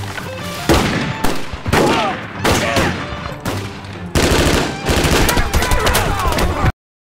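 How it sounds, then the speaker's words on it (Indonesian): Repeated bursts of loud gunfire, rapid volleys with short gaps between them, dense and close, ending abruptly in silence. "Dari balik pepohonan, Smoke menembaki mereka, menewaskan separuh pasukan"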